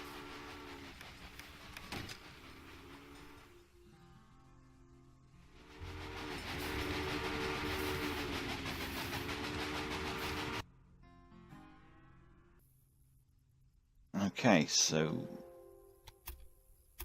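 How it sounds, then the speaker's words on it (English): Rumbling trains and rail traffic in the Railway Empire video game, with a steady rolling drone swelling louder midway, then a quieter stretch and a sharp burst of brighter sound near the end, under occasional speech. "I've got 3 trains coming down here"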